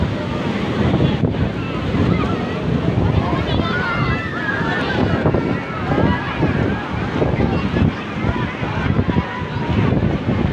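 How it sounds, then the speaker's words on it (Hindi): Strong sea waves crash and surge at Manora beach with heavy wind buffeting the microphone, a continuous loud roar of surf close by under a crowded shore. "लहरें देखें, सबको ऊपर भगा रहे हैं मगर कोई जा नहीं रहा ऊपर"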